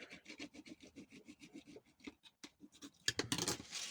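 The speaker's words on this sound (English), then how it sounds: "Do a little bit of burnishing. Always like to burnish tape." Tape being burnished by hand onto a paper pocket folio, a quick run of short, close rubbing strokes in a steady rhythm, ending in a louder, harsher scrape; no voices.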